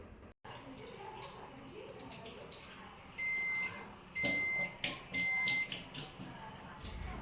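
An electric rice cooker gives three clear, sharp beeps in quick succession to signal that ghee rice is done, heard over quiet kitchen background noise.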